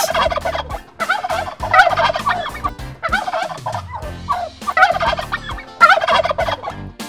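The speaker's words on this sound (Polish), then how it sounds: "Indyk gulgocze." Turkey gobbling loudly and close in a farmyard setting, several rapid rattling bursts repeating with short pauses, alone without talk.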